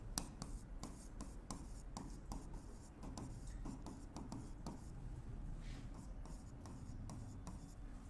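Pen writing accounting entries on paper, a steady run of short scratchy strokes with brief pauses between words, close and quiet, no voices.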